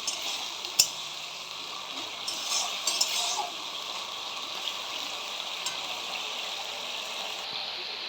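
Tomatoes with a little water cooking in a pan for moong dal with fish head, a soft steady sizzle with a few light clinks and scrapes of stirring.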